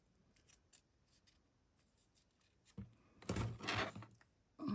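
Scissors snip through a paper invoice at a craft table, with faint clicks early on, then a loud, close burst of crisp cutting strokes near the end.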